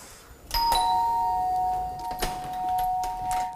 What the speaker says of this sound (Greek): Χτυπάω μόνο το κουδούνι και φεύγω.